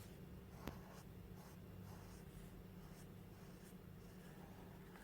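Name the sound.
writing with a felt pen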